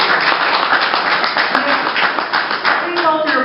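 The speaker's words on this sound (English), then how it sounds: "Please hold your applause till we're finished with this district" Audience at a district council candidates' debate clapping after a candidate's closing statement, a loud steady patter of many hands with voices talking over it, tapering slightly near the end.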